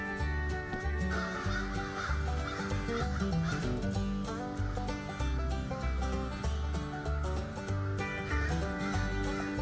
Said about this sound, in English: Some really loud birds up there.